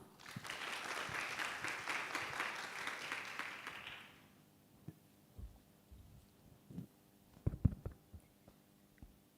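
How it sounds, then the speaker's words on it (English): Warm round of applause from a seminar audience at a university grand opening, dense and continuous for about four seconds, then cutting off into a quiet room with a few faint knocks and shuffles. "Please give a warm round of applause."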